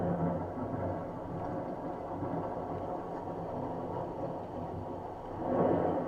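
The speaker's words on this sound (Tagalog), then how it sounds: "Kumukulog. Ang lakas ng kidlat." Thunder during a rainstorm, a continuous low rumble that rolls on for several seconds and swells louder near the end, with no talk over it.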